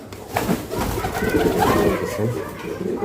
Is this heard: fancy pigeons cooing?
yes